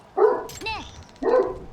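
A human voice imitates a dog barking, giving two short woofs with a squeaky whine between them.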